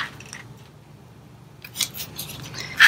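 Scissors snip through decal material, a few short, crisp cuts close by, quiet at first and sharper toward the end.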